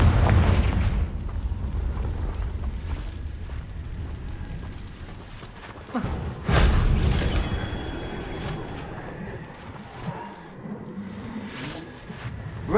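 The Confringo fire-blast spell in Hogwarts Legacy bursts with a loud, booming explosion midway, after a low, rumbling background that fades into scattered crackles and smaller pops.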